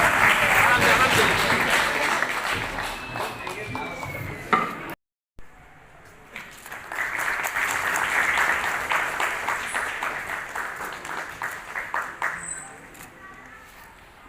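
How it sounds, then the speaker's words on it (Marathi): Audience clapping at a retired electricity workers' association event, a steady crowd applause that breaks off for a moment of silence, then returns in a second sustained burst that gradually tapers. "टाळ्या व्हायला नको का? उद्या आपल्यासाठी कोण टाळ्या वाजवेल?"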